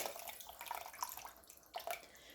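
Chicken broth being poured into a pan of orzo pasta, a soft, steady liquid splashing and trickling with a few brighter drips, fairly quiet and close, with no talking.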